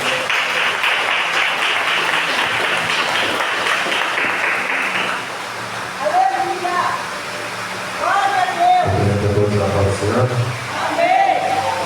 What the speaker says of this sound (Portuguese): Receba o céu do Senhor, as palmas para Jesus.